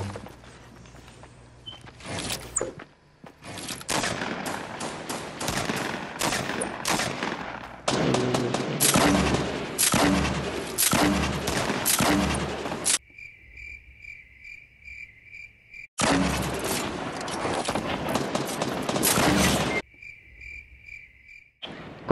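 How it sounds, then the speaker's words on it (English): Fortnite duo match gunfire comes in long, dense bursts of rapid shots, loud and close, broken by short pauses where a high, chirping in-game tone pulses alone. "Bro, I just got sniped."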